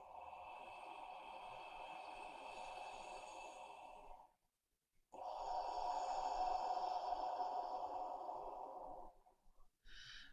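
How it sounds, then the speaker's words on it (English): Slow, deep breaths drawn through a rounded mouth during a relaxation meditation; two long, noisy, airy exhalations of about four seconds each, separated by a brief silence, close and fairly loud, with the start of another breath at the end. "So it might sound like quite a noisy breath."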